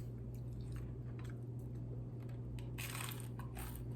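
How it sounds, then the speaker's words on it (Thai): Chicken feet being chewed close up during a mukbang: faint, wet, squishy chewing that turns into a few sharper crunchy bites toward the end, with no talking. "เสียงกรอบมันนะ"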